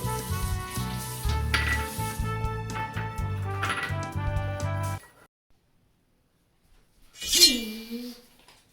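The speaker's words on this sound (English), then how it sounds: "I'm going to clean these dishes while they clean those." Dishes being washed clink and clatter in quick irregular knocks with running water for several seconds, then a pause of near silence before a brief further rattle and a short vocal sound.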